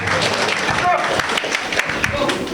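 Audience at an installation ceremony for a Guinean community president in Port-Gentil applauds a guest, scattered irregular clapping mixed with crowd noise and a voice speaking over it.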